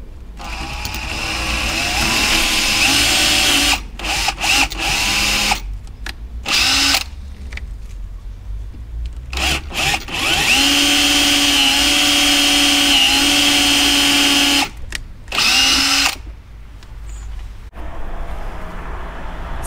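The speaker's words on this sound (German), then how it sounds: "ihr habt ja gerade gesehen, wie ich das Loch gebohrt habe" A drill runs loud and close in long bursts, stopping and restarting several times, with a steady motor hum between runs, boring a hole in a Ford Mustang for an aluminum plug.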